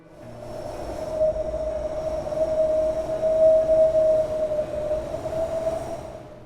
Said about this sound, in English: One of the crew members explains that the noise sounds just like a siren.